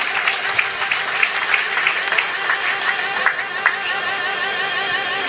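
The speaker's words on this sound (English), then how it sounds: "Big round of applause to both fighters for a great contest." Audience applause for both fighters after a three-round contest at a combat sports event: a dense, steady wash of clapping from a large crowd, with scattered louder individual claps and cheers throughout.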